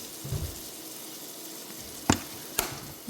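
Chickpea tofu ingredients, onion powder, salt and nutritional yeast among them, are stirred in a bowl, with soft scraping and two sharp clinks of the utensil against the bowl's side, close and quiet.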